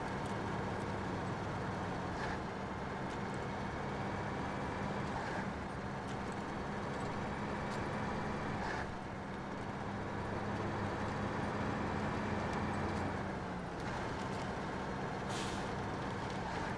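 A heavy truck in the video game SnowRunner climbing a freshly cleared track, its engine droning steadily and loudly throughout, with occasional hisses and clanks over the continuous rumble.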